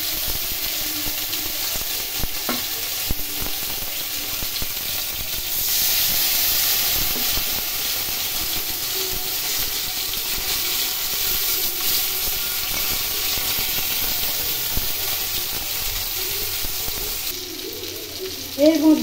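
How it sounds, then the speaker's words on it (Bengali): Cumin seeds and onion-garlic-ginger-chili paste fry in hot oil, a loud, continuous hissing sizzle that swells briefly partway through, with steam and a few faint clinks near the end. "তেলের মধ্যে জিরে ফোড়ন দিলাম, পেঁয়াজ রসুন আদা লঙ্কা বাটা"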